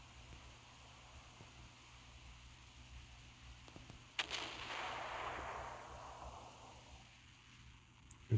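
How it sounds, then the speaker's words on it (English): A battleship's big-gun salvo in the naval combat game Naval Creed: a sharp report, then a broad rushing roar that swells and lingers for a few seconds before fading, with a couple of small cracks near the end. "That was a pretty disappointing salvo."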